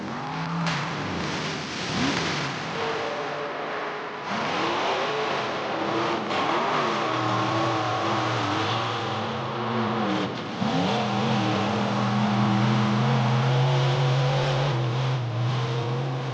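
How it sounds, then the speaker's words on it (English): An off-road race vehicle's engine revs hard at full throttle on a hilly course, loud and continuous, with rising and falling pitch through shifts and bumps. "nobody holds the throttle down like Haft"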